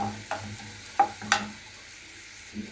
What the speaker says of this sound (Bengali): পেঁয়াজটা আমার ভাজা হয়ে গিয়েছে